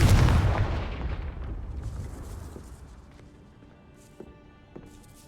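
A Confringo blasting spell from the Hogwarts Legacy video game goes off as a single loud, booming explosion, then a long rumbling decay with faint debris crackles and small pops trailing away.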